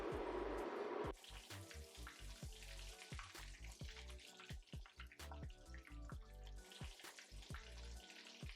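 Spicy falafel burgers deep frying in hot peanut oil in a wok give a dense, steady crackling sizzle with sharp pops and spits. A loud burst at the start settles into continuous bubbling close by, with no talking.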